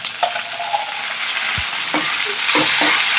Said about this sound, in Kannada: ಗೈಸ್ ಇವಾಗ ಈರುಳ್ಳಿ ಮತ್ತು ಅರಿಶಿನ, ಚಕ್ಕೆ ಮೂರನ್ನು ಚೆನ್ನಾಗಿ ಮಿಕ್ಸ್ ಮಾಡ್ಕೊಳ್ಳೋಣ.